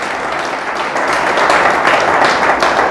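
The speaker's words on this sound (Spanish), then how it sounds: "Dale fuerte el aplauso a Dios, dáselo fuerte." A church congregation claps loudly and steadily in sustained applause, a dense wash of many hands filling the room and swelling slightly toward the end.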